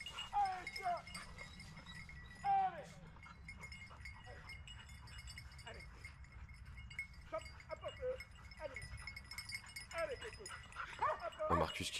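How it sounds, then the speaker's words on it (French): Hunting dogs bay and yelp at wild boar hidden in a bramble thicket during a driven boar hunt, a scattered chorus of barks and howls at middle distance with someone talking over them. "Quand on entend les chiens comme ça, on sait que les sangliers sont dans le roncier."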